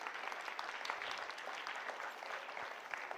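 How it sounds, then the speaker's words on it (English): Applause for children at a summer camp valedictory programme, a steady wash of many hands clapping continuously at moderate level from an audience, with no voices over it. "So one more round of claps for all of you."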